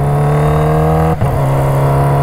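A Kawasaki Ninja H2 motorcycle at a drag strip screams loudly under hard acceleration. Its strong whine briefly drops as it shifts into sixth gear, then it pulls on at a steady high pitch.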